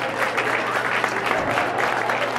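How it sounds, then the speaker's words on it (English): A crowd applauds for Victoria's Fisheye Project in a steady, dense burst of clapping from many hands, fairly loud and continuous throughout. "round of applause for the Fisheye Project"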